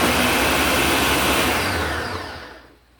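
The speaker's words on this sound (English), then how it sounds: "And then we're just going to blend this." A blender purees kiwi with a little sugar in a loud, close, steady whir that winds down and cuts off near the end.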